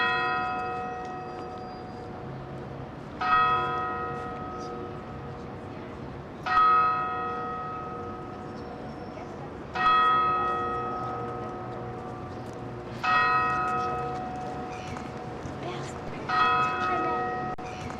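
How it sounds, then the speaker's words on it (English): A church bell in Christchurch tolls five slow, evenly spaced strikes, each ringing out and decaying before the next, with faint outdoor background beneath. "Mummy to stop ringing the bell."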